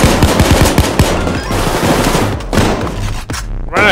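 Loud, close rapid gunfire in the video game Payday 2 during a jewelry store heist, dense overlapping bursts and heavy shots running throughout.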